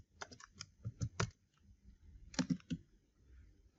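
Keys clatter on a computer keyboard as an Oracle SQL query is typed for a database tutorial, in two quick bursts of clicks separated by a short pause, close and moderately quiet with no talking.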